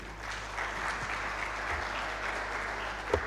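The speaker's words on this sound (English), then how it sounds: "a huge hand clap for Mr. Joshua" Conference audience at an alternative investments event applauding, a dense steady patter of many hands clapping at moderate volume for a few seconds, with faint murmuring underneath.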